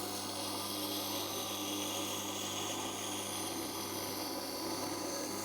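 Record Power WG250 wet grinder sharpening an axe held in a jig, giving a continuous steady grinding hum with a soft abrasive rasp, even in level and close, with no voices.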